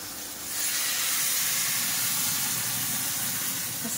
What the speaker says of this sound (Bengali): ফুটছে খুব, কারণ গরম জল দিয়েছি তো।